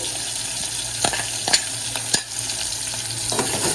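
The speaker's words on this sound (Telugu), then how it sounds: "బ్రౌన్ కలర్ వచ్చేంత వరకు ఫ్రై చేసుకోవాలి" Onions and green chillies frying in oil in a pan, a steady sizzle with a few louder stirring scrapes at intervals, no talking.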